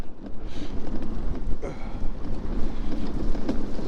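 Strong gusting wind buffets the microphone outdoors beside a muddy waterside path, a continuous loud low rumble with surging gusts and no speech.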